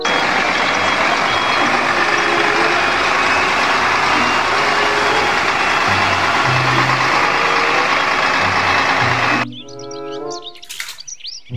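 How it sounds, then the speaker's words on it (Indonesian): A toy concrete mixer truck gives off a loud, steady electronic whirr with repeated tonal beeps and chirps, ending abruptly in a short burst of varied synthetic tones near the end. "Mobil truk molen, mixer trucks."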